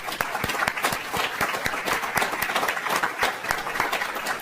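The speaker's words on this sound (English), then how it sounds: "Carla Canella, who deserves a round of applause" Moderate applause at a conference, a smaller crowd with individual claps standing out in an uneven, fairly close patter that continues steadily for a few seconds.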